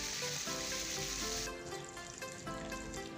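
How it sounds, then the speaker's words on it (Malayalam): Mustard seeds, dried red chili, cumin and curry leaves sizzle and crackle in hot oil for a Kerala sambar tempering, a loud close frying hiss with scattered pops, easing slightly midway, with no talking. "കടുകും, അല്പം ഉണക്കമുളകും, അല്പം ജീരകവും, കുറച്ച് കറിവേപ്പിലയും കൂടി ചേർത്ത് കറിയിലേക്ക് താളിച്ച് വയ്ക്കാം."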